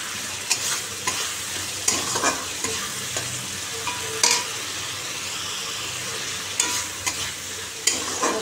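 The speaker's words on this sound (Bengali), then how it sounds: "বন্ধুরা দেখো, মশলাটা কষাচ্ছি" A spice paste with cumin powder, salt, turmeric and a little tomato is stirred and sautéed in a pan, giving a continuous sizzle broken by repeated scraping knocks of the spatula, close and without speech.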